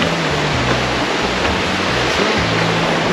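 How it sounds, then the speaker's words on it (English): Loud, steady roar of cascading water at the Three Cascade Waterfalls in Tahiti, French Polynesia, a dense unbroken wash of sound with no voices. "We're at the Three Cascade Waterfalls."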